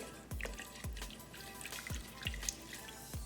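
Water trickles and drips into a bowl holding yeast and sugar for homemade Margherita pizza dough, with a handful of distinct, close drops at an uneven pace and no voices.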